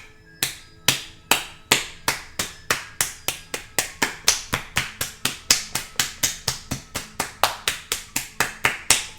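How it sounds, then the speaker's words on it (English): Cupped hands slap a bare foot during self-massage, producing sharp, close, evenly paced smacks about three per second in a long unbroken series. "We're gonna just clap on it."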